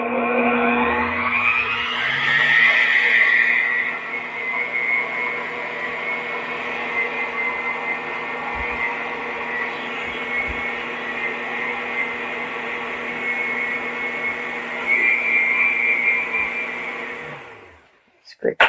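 Electric mixer whirring steadily through cookie dough with milk and vanilla, a sustained motor hum that ramps up, holds for a long stretch, then winds down and stops.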